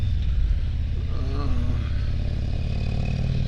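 A 2023 Harley-Davidson Road King Special with a 114 engine and stage 2 upgrade idling close by, a dense, steady low rumble with a shaking pulse, while a person talks over it.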